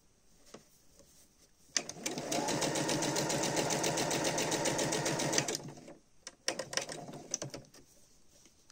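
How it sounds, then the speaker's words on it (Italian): A sewing machine runs a steady stitching burst for about four seconds, sewing back and forth along a seam close to the presser foot edge on pink fabric, with fabric handling clicks before and after. "Facciamo un avanti e indietro, cucitura a bordo piedino."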